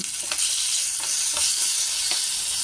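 Curry leaves and asafoetida sizzle and fry in a pan of hot oil for a curd coconut chutney tempering, a steady close crackle with a few soft stirring scrapes, no voices.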